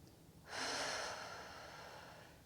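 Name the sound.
deep breath in during a workout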